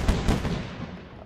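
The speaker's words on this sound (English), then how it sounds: "Geez, that's a lot of artillery." Booming artillery fire from a tower defense video game, a dense rolling barrage of shots with the strongest blasts near the start, close and continuous.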